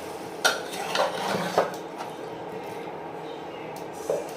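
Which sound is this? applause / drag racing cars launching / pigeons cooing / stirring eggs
stirring eggs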